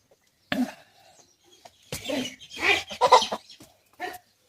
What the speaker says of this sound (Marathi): बघा हे कोंबडी उकरायचे सुरू केली आहे